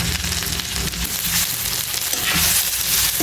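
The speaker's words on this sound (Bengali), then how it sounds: "মশলা কষানোর জন্য অল্প জল দিয়ে দিলাম টমেটো দিয়ে দিলাম" Spices with turmeric and chili powder, a little water and tomatoes frying in a pan, a loud, dense, continuous sizzle heard close and steady throughout with faint stirring and no talking.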